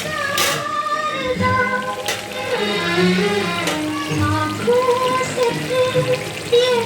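Boiled noodles drop into a hot frying pan of fried egg and cauliflower, giving a bright crackling sizzle with sharp spits and pops, while clattering utensil sounds and faint tonal noises sit underneath.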